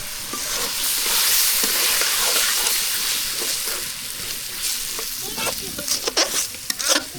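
Four eggs frying in oil with onion, green chilli and chopped potato in a village kitchen: a loud, steady close sizzle with stirring, and sharper scrapes and clicks of the spatula near the end.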